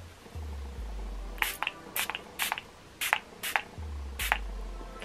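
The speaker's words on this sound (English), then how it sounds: "I will first spray" Makeup setting spray misted onto a face in a series of short hissing pump bursts, about six sprays spaced unevenly, close and fairly crisp, with a low hum underneath.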